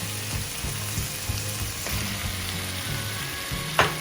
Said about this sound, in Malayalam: തക്കാളി കൂടി ഇട്ടിട്ട് നന്നായിട്ടൊന്ന് വഴറ്റിയെടുക്കാം.